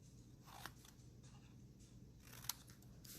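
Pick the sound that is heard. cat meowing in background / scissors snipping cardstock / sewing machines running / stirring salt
scissors snipping cardstock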